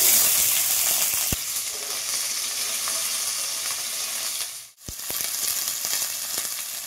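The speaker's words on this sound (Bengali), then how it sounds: "বন্ধুরা, আমি এক এক করে সব সবজিগুলো ভেজে নেব।" Vegetables hitting hot oil in a wok for restaurant-style chilli chicken, a steady close sizzle and frying hiss with occasional sharp clinks of a utensil, dipping briefly before resuming.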